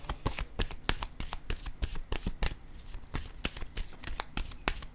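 Cards being shuffled and drawn for a card reading give off rapid papery riffles and crisp snaps, repeated in quick bursts close to the microphone, with no voices.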